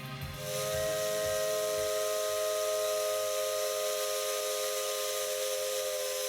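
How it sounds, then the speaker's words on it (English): A steam locomotive whistle from a video game sounds loud and sustained, a steady multi-tone blast layered over hissing steam. It starts after a few low chuffs and holds unbroken to the end. "I sound off the steam whistle."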